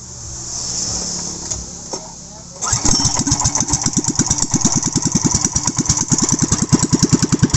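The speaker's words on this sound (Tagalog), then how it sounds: "So ayan, umandar na po siya" A Sumo 15HP marine engine, freshly cleaned of rust and dirt, sputters through a short start and then settles into a loud, rapid, steady chugging idle close by.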